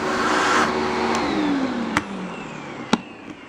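A Panasonic Jet-Flo vacuum cleaner with a clean-air motor running and then winding down, a loud airy whine that falls in pitch, with a couple of sharp clicks along the way.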